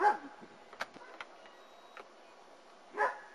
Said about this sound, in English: Got a nice bark to her, though.